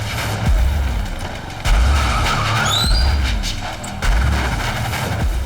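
A car skids through a loud street scene, its squeal rising in brief streaks over heavy low rumble and thumps, with several surges of noise across the stretch and no talk.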